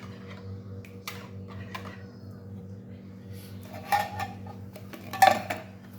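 A spoon clinks and scrapes against a bowl as ingredients are mixed for homemade maja blanca, including corn and cornstarch. The light taps come irregularly and grow louder near the end, over a low background hum.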